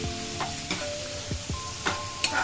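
Onion and tomato fry in a pan for a vegetable kurma, a steady soft sizzle with light scraping stirs and a few clinks of the spoon against the pan.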